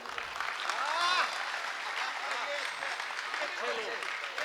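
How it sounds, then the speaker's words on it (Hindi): Audience clapping at a live Hindi stage comedy or poetry event, a sustained burst of applause that swells near the start and stays steady, with voices mixed into the crowd noise. "जितने भी अच्छे लोग हैं तालियां बजा दीजिए एक बार।"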